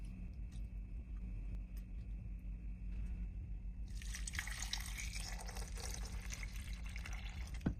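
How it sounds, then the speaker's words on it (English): Pieces of lamb poured into a pot of radish stew for hot pot, a wet splashing and sizzling burst that starts midway and keeps bubbling over a low steady kitchen rumble. "Pour in the lamb."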